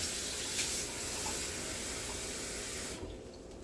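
Water runs steadily from a tap with a soft, even hiss, then cuts off near the end.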